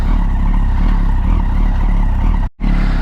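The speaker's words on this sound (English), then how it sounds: "I'm about to do my first ride on this Yamaha R1" A rebuilt 2007 Yamaha R1 sport bike on its first ride after a crash rebuild, its engine a loud, continuous buzzing drone for about three seconds, broken by a brief dropout near the end.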